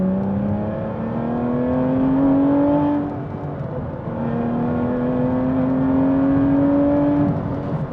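A car engine with a 7-speed manual gearbox pulls steadily through the gears, its tone climbing under load, then dipping briefly at a shift around the three-second mark before rising again in a second long pull.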